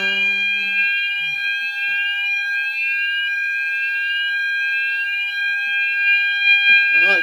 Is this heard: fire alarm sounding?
yes